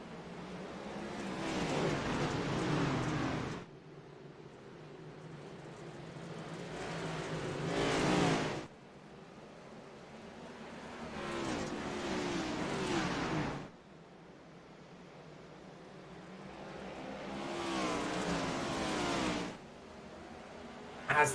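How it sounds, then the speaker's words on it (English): Dirt race cars roar around the Bristol dirt track, engines swelling and fading in four long waves as the pack passes, loud and close, with quieter gaps between laps. "Let's enjoy these cars roar away here at Bristol."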